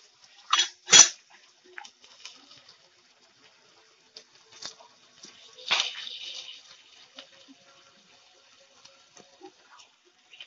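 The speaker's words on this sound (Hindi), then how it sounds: "अब मैं इसमें 1 कप चॉप्ड टोमेटो डालूंगी।" Chopped tomatoes tipped into a pan of vegetable oats upma, giving two quick close clatters of utensil against the pan, then a softer scraping patter a few seconds later, with quiet gaps between and no talk.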